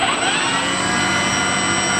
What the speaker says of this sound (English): just do a quick rev up test to make sure everything is working properly